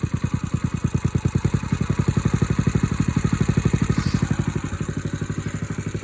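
A diesel engine warming up on a mild day idles with a loud, rhythmic chugging pulse, steady and close, rising slightly as it is revved.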